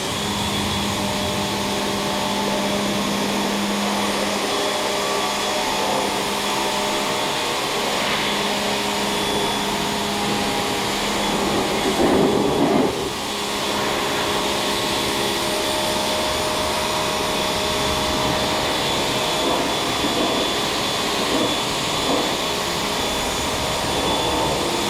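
A 2008 Toyota Matrix being rinsed down with a steady, loud spray of water, a constant broadband hiss that barely changes over the whole stretch, with no one talking.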